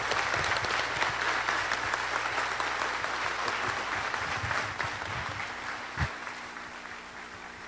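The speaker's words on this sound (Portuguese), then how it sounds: "Palmas para todos." Sustained applause from a large crowd, steady and loud throughout, thinning slightly toward the end.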